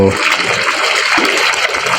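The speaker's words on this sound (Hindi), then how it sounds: "ये बाल्टी भर रहा है" Water gushes steadily and loudly into a bucket being filled for watering chili plants outdoors, a continuous close rushing stream throughout.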